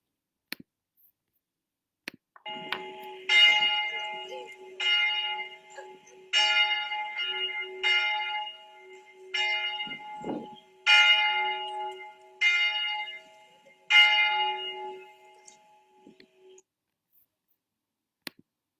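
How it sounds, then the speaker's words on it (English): A church bell rings out slowly and steadily, about eight resonant strokes spaced a second or two apart, each ringing on before fading into quiet. "We conclude this time of prayer by listening to our church bell."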